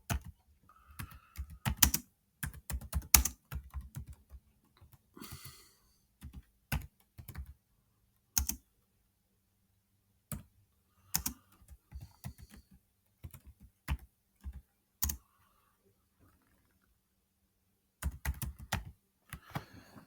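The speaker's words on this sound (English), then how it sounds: "I'm going to begin typing now." Bursts of key clicks from a computer keyboard, typed in irregular clusters with pauses between, close and fairly quiet, no talking.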